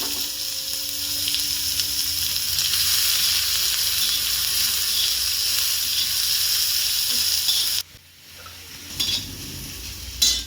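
Chopped onion tossed into hot oil with mustard seeds and cumin for a village-style ridge gourd dish, a loud, steady close sizzle that cuts off sharply near the end, followed by faint stirring.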